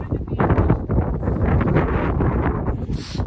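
Gusty wind buffets the microphone atop rocky, loose-stoned Blodgett Peak near Colorado Springs in winter, a loud rumbling roar that surges and eases, with a voice partly buried beneath it.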